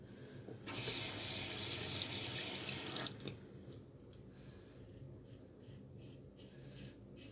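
A bathroom tap runs loudly into a sink for about two seconds as water is drawn to re-wet the face for a shave, then shuts off, leaving quiet handling and faint scraping sounds.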